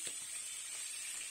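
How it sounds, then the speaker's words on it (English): Salmon trout fillet frying in a pan, cooked to golden brown, gives a steady bright sizzle with faint crackles, continuous and close, with no voices. "Now just fry it at a golden brown and not too long"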